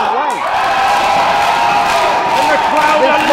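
Wrestling crowd at a live pro match cheering and whooping in a steady, loud wash of voices, with brief shouts and a few sharp slams rising above the roar.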